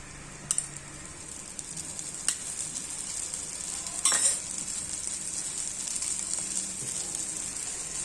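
Pesarattu batter sizzles steadily in oil on a hot pan, a continuous hiss with a few faint utensil taps, no voices.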